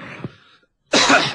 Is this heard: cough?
yes